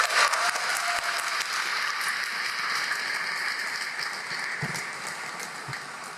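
A church congregation applauds loudly and steadily, a dense wash of clapping that fills the whole stretch without pause and fades only slightly toward the end.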